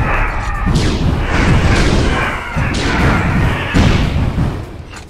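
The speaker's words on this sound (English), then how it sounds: "Have a grenade." Repeated heavy booms and thuds from grenade blasts in the video game Apocryph, with dense low rumble sustained across the whole stretch and several sharp onsets, loud and close.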